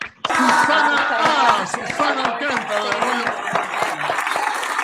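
Studio audience applause on a Spanish-language talk show, loud dense clapping right from the start with a host's voice speaking over it.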